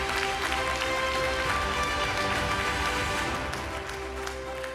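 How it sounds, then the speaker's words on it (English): Awards gala audience applauding, a dense continuous wash of clapping from a large room that holds steady for several seconds and eases slightly at the end. "So you could just give her another round of applause"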